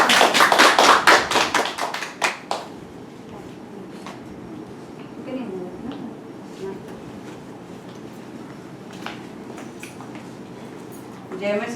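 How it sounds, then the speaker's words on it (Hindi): Church congregation on Palm Sunday bursting into loud, dense applause for about two and a half seconds, then trailing off into faint scattered claps and room murmur. "हम स्तुति आराधना के लिए प्रभु का जोरदार तालियों से स्वागत करते हैं।"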